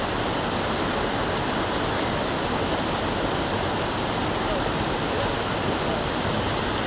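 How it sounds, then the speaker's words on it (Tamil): Loud, constant roar of rushing water from Jogini Falls near Manali, a dense hiss filling the air with no pause. "தண்ணி எப்படி ஊற்றுன்னு பாருங்கள்."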